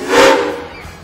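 A steam engine in a night parade lets out a single short, loud whistle blast that quickly fades into a lingering hiss.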